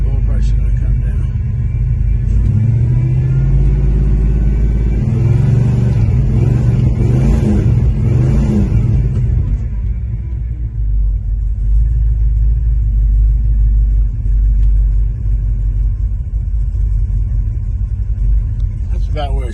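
An old carbureted car engine idles steadily, a deep continuous rumble with a brief rise in revs early on before settling back to an even idle, and a voice talks over it.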